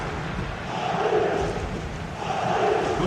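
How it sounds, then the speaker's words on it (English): A football stadium crowd roars and chants in steady, swelling waves, with the wash of voices staying distant and continuous throughout. "the crowd is certainly trying to motivate the players to get the equaliser"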